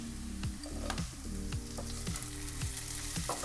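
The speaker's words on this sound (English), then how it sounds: "Just give this a rough stir" Peas frying in a pan for an Indian aloo puff filling, sizzling steadily while a spoon scrapes through them in a rough stir, with repeated clinks and scrapes roughly every half second, close and moderately loud.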